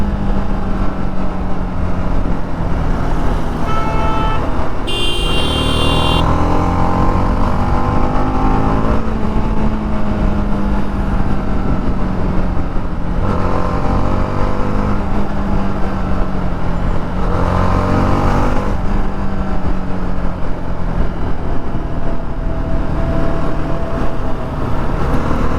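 Dense road traffic surrounds a TVS Apache RR 310 motorcycle with stock exhaust, loud engine drone rising and falling as vehicles pass close by, with a brief horn near the start.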